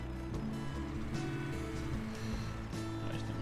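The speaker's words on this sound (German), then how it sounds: "Motor an wäre vielleicht nicht schlecht." A tractor engine in the farming game Landwirtschafts-Simulator 17 runs after being started, holding a steady low droning hum with a slight throb and no speech over it.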